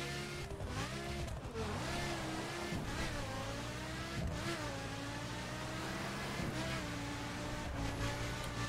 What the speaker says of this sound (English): It sounds basically the same when you actually rev the Gallardo, the engine sound